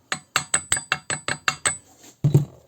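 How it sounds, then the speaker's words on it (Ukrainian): A car alternator pulley on a VW is tapped lightly, giving about eight quick, evenly spaced metallic knocks close by, then a brief pause and a final heavier double knock, with no voices. "Лігонько постукуємо по нашому шківу"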